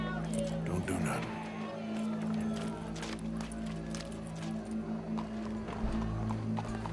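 Horse hooves clip-clop in a steady walking rhythm in the video game Red Dead Redemption 2, moderately close, under voices talking and a low droning background.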